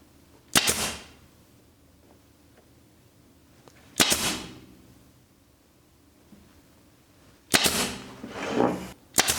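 A staple gun drives staples through upholstery fabric on an antique chair, with three loud, sharp, close snaps spaced a few seconds apart, each trailed by a short burst of rustling.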